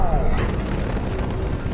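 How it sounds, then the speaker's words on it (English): A big explosion in the video game Mass Effect 2 roars in a dense, loud, sustained rumble with crackling debris that fills the whole clip. "Big explosion."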